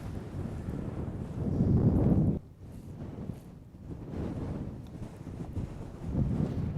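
Strong gusts buffet the microphone on an open golf course, a heavy low rumble that swells and eases in long waves, with no voices heard.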